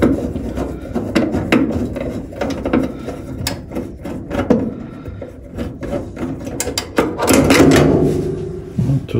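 A bolt is loosened on the belt tensioner of a clothes dryer: irregular ratcheting clicks and scraping metal rasps, close and fairly loud, continuing in bursts with a busier grinding stretch near the end.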